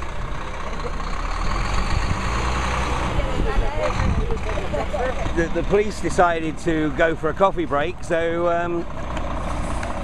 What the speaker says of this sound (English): doesn't look like the truck's getting out of here until at least the police get back